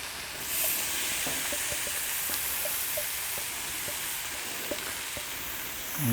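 Boiled potatoes seasoned with avocado oil sizzle on a Camp Chef griddle, a steady close frying hiss that runs without pause, with no voices.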